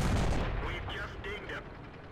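A single heavy tank cannon shot from a Type 62 light tank in the World of Tanks video game booms loudly at the very start and then decays, followed by faint talking.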